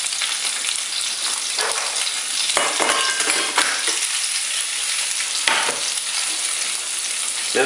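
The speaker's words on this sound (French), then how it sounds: "la poêle est chaude avec de l'huile. Je mets les crevettes." Shrimps searing in a hot pan with oil, a loud, dense, continuous sizzle close up with bursts of crackling as they are moved around, no talking.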